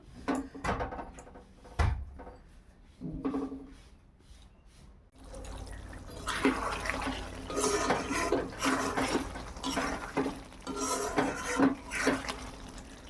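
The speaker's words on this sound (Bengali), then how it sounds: "আলুটা সিদ্ধ হওয়ার মতো জল দেব, আর জল দেবো না।" Water pours into a pot of potato chicken curry, a steady, splashing gush that runs continuously for several seconds and follows a few earlier clanks and knocks in the kitchen.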